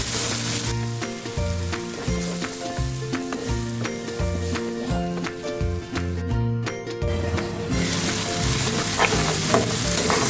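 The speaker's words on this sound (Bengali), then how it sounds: "দেখুন এখন কিন্তু মশলাটা ভাজা ভাজা হয়ে গিয়েছে" A spice paste sizzles in hot oil for a spicy Gulsha fish curry while being stirred, with loud rhythmic scraping strokes of a spoon against the pan over a constant close frying hiss, and no talking.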